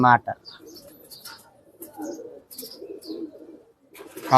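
Pigeons coo in a low, murmuring, repeated way. A few soft coos sit under and around a man's speech, with brief louder voice bursts at the start and end.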